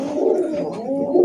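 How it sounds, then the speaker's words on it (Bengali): A loft crowded with pigeons gives a continuous, close, loud chorus of overlapping low coos, with no talking. "এখানে অনেক পায়রা আছে"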